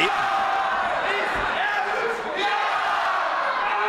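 Wrestling arena crowd reacting to Ricky Sky, a steady wash of chatter and murmuring that stays at a constant level throughout, with some shouts mixed in, heard alongside a commentator's voice.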